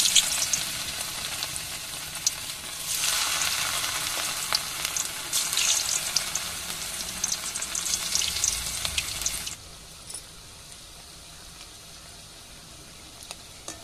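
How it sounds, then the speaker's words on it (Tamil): Spiced cauliflower pieces dropped into hot oil crackle and sizzle loudly for several seconds before the frying settles into a fainter, steady hiss with occasional pops. "இப்போ எண்ணெயில் போட்டு பொரிச்சு எடுத்துக்கிறோம்."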